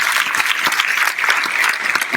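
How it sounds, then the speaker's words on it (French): Audience at a live comedy stage show clapping for a performer, a full, steady burst of many hands applauding loudly from start to finish. "on peut applaudir Laurent sur la deuxième scène."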